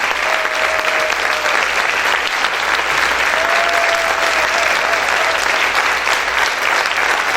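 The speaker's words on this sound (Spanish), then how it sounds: "Vamos a aplaudir fuerte al Rey." Loud, sustained applause fills a church congregation, dense and steady throughout with a faint sung or called tone rising above it in places.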